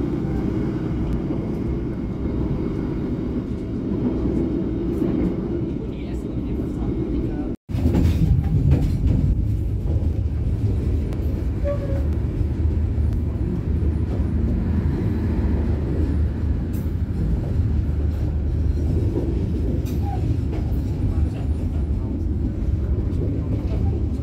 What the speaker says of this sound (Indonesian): ini kereta api Pandalungan melintas langsung stasiun Wonokromo